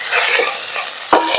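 Ginger garlic paste stirred into onions frying in a pan: a loud, steady sizzle with scraping stirs and a sharp clink of utensil on metal near the end.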